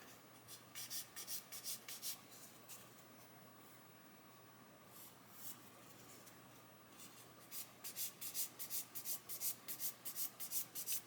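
A model kit wheel is sanded by hand to remove a glossy patch, heard as quiet, close, rhythmic rasping strokes in bursts with short pauses between them and no talk.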